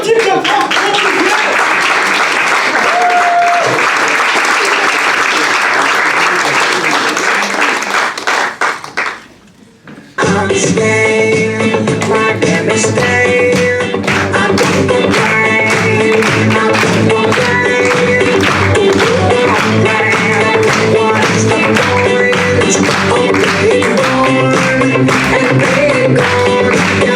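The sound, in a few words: audience applause for a comedian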